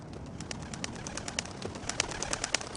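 Pigeons coo and rustle at a moderate distance, soft repeated calls over a steady background hiss.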